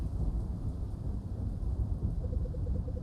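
Steady rain in a visual novel game, a low, even wash of falling water with a deep rumbling undertone, constant and moderately faint, no voices present.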